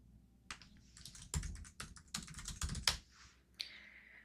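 Someone types quickly on a computer keyboard, a close, fairly quiet run of irregular key clicks and taps with brief pauses, heard alone.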